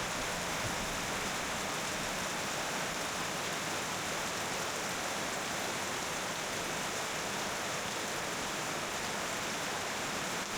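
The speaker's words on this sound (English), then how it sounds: "only to be caught in the rain once again." Steady, hissing rain falls continuously throughout in Nepal, a dense wash of droplets with no voices or breaks.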